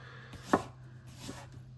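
Sharp knife finely chopping onion for guacamole on a board: one distinct close cut stands out, with softer faint taps around it, no talk.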